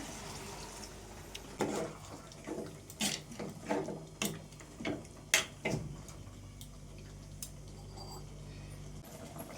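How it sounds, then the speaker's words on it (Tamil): Water poured into a pan of masala-coated chicken: a run of splashy knocks and pouring bursts close by, then a quiet low hum with little else. "இப்போ சிக்கன் கூட வந்து தண்ணி வந்து சேர்த்துக்கிறேன்"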